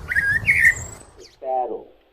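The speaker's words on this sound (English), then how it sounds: "blackbird" A blackbird sings a brief bright phrase of high whistled notes, followed after a pause by a lower warbling note, close and clear in quiet surroundings.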